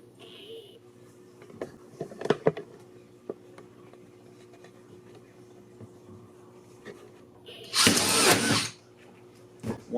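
A power drill with a 1.5-inch bit whirs loudly in one sustained burst near the end, preceded by scattered clicks and clunks of handling tools in a quiet room.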